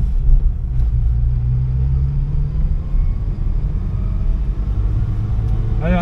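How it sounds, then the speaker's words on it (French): Inside a 1980 Peugeot 104 S pulling away, the engine makes a steady, close, low rumble and droning hum that carries through the whole stretch, and a voice talks near the end. "Allez, on est parti dans la 104S 1980."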